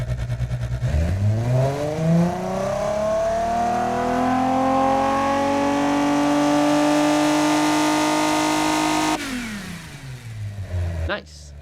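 A 304 horsepower six-cylinder engine in a 1980s light utility vehicle built for the BeamNG driving game revs up steadily and holds a loud, sustained high note for several seconds, then drops off with brief further blips.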